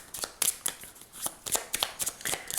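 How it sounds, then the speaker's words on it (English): Divine Doors Oracle cards being shuffled by hand, a series of crisp riffling bursts and soft slaps in an uneven rhythm, close and fairly quiet with no talking. "So I'm going to shuffle them on camera"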